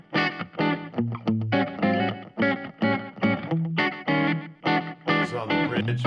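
Electric guitar played through a Fender Mustang LT25 amp on its Country Picking preset, using the bridge pickup with light compression and slapback echo, a busy run of twangy picked notes and chords, close and clear with no talk.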